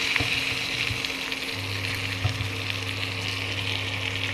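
Chicken sizzles steadily in a kadai of hot oil with turmeric, a continuous crackling fry with a low hum beneath and no talking.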